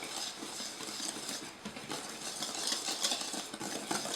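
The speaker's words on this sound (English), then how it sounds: "So whisk that together" Flour, sugar, baking powder, salt and cinnamon whisked together in a bowl, with quick light scraping and clinking of the whisk in an uneven rhythm, fairly faint and close.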